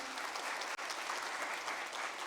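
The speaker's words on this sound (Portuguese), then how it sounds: "Uma salva de palmas, pessoal." Audience at a workplace-safety panel breaking into a short, dense burst of applause, a close and even wash of clapping throughout.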